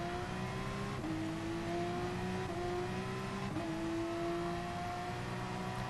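A Corvette race car in the GT Sport video game accelerates out of a turn. The engine whine climbs steadily in pitch, briefly dropping at each gear shift, and the sound is continuous, moderately loud and close.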